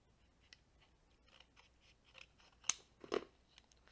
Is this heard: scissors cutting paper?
yes